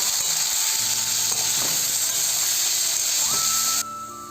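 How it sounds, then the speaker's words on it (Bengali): Spiced potatoes seasoned with salt and turmeric fry in a pan, giving a loud, constant sizzling hiss with faint scraping as they are stirred; the hiss drops away abruptly near the end. "এবারে নাড়াচাড়া করে ভেজে নেব"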